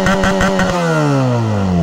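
Close up, a Benelli TNT 300 motorcycle engine pulses with a brief rev, then its tone drops smoothly and holds a steady, loud running note.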